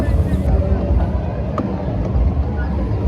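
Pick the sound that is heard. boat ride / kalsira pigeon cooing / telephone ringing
boat ride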